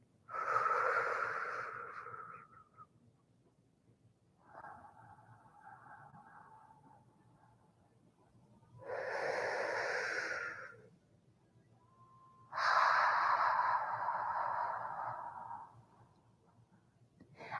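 Slow, deep yoga breathing during a gentle Hatha session, with four long, airy inhales and exhales, each a soft sighing rush of breath separated by quiet pauses, close and alone.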